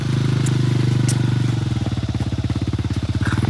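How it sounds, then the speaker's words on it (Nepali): A motorcycle engine chugs loudly and close by in a fast, steady pulsing rhythm as it climbs toward a hilltop temple near Nawalpur. "ल हामी सरको बाइक पनि निस्क्यो माथि"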